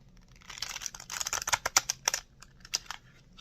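Tarot cards being shuffled by hand, a quick run of dense papery riffles and flicks that bunch up in the middle and then thin into a few separate snaps, close and fairly quiet, with no voices.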